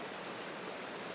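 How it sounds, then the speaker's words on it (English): Small falls spilling between two rocks with a long, thin waterfall behind, a steady broadband rush of water that stays even and close throughout, with no voices. "There's a wee little bit of a falls just here coming down between the two rocks, and then we've got the waterfall behind."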